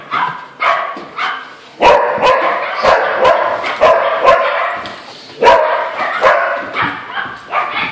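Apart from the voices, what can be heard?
dogs barking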